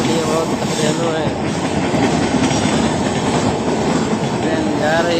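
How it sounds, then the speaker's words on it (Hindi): A train passes at close range, giving a loud, continuous rumble with clattering wheels and metallic rattle that holds steady throughout, with people's voices mixed into the noise. "ट्रेन जा रही है"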